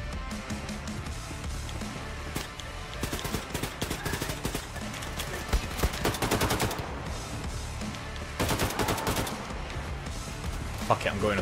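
Rapid bursts of heavy gunfire from mounted guns in Wolfenstein II: The New Colossus, crackling in dense volleys with louder clusters near the middle and again toward the end, over a busy game soundscape.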